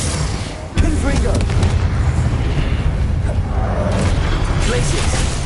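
A Confringo spell blast in Hogwarts Legacy, a loud booming explosion that hits sharply and leaves a sustained rumbling roar under combat noise, with a voice speaking.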